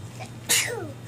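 A single sharp sneeze bursts out close by, loud against a steady low hum during a Christmas morning gift opening, followed by a fading breathy tail.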